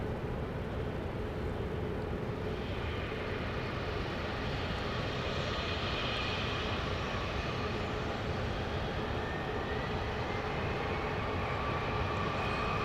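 A Southwest-style Boeing 737-700 arriving at Dallas Love Field from Houston Hobby gives a steady, loud broadband jet roar that holds throughout with no pauses, alone and with no voices.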